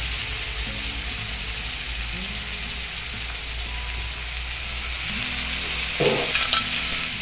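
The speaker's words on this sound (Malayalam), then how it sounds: "കുറച്ച് വെളിച്ചെണ്ണ ചേർത്ത് കൊടുക്കാം. ചൂടാവട്ടെ. ഇഞ്ചി വെളുത്തുള്ളി ചതച്ചത് ചേർക്കാം." Crushed ginger and garlic fry in hot coconut oil in a pan, giving a steady, close sizzle with stirring scrapes and a brief louder burst of crackle near the end.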